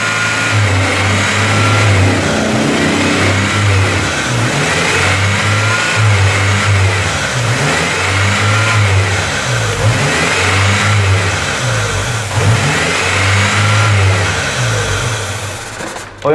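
A 2005 Ford Fiesta engine with a fault being revved up close, loud repeated throttle blips rising and falling in a steady rhythm over a rough mid-pitched running note.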